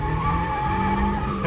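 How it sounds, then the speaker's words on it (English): A Toyota Yaris under hard acceleration, its engine droning loudly and continuously with a tire squeal riding on top throughout, close and without pause. "I love when the tires squeal."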